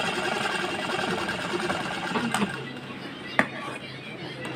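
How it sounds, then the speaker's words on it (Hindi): A sewing machine stitching a blouse runs in a steady close mechanical whir that eases off toward the end, with a sharp click near the finish and a voice talking over it. "अब इसको यहाँ पर भी स्टिचिंग कर लें, यहाँ पे भी सिलाई लगा लें।"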